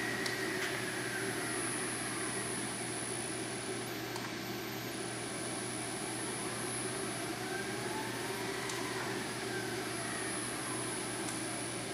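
Spindle of a Manford 200VS milling machine running, a steady whirring drone with a constant low hum and a high whine, unchanging and close.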